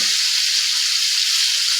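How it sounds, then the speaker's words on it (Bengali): Swarputi fish frying in hot oil, turned over to cook the other side, gives a loud, even, close-up sizzle that stays constant throughout with no talking. "এক পাশটায় কিছু সময় ভাজা হয়েছে এখন মাছটার অপর সাইডটা ভাজার জন্য উল্টায় দেওয়া হচ্ছে"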